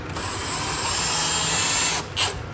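A handheld cordless drill spinning continuously and close, a steady high whine lasting about two seconds before cutting off, followed by a short second burst.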